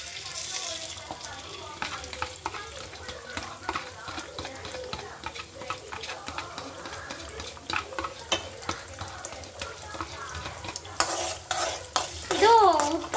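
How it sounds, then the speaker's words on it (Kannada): Eggs frying in oil in a pan for simple egg noodles, a steady sizzle with repeated spatula scrapes and stirring taps, close and fairly loud, brief voice near the end. "ಇದು ಮೊಟ್ಟೆನ ಫಸ್ಟು ಫ್ರೈ ಮಾಡ್ಕೊಂಡು ಇಟ್ಕೊಳ್ಳೋಣ"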